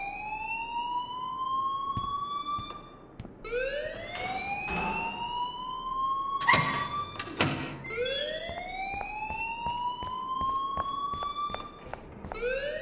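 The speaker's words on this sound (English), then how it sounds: "please turn off that alarm since that's your job" Wailing electronic alarm in the video game Life is Strange, rising siren-like sweeps repeating every few seconds with loud sharp bursts midway, sounding continuously throughout.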